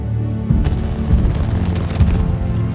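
Rapid bursts of video game gunfire in a squad firefight, repeated sharp shots and booms in quick succession, loud and close without speech.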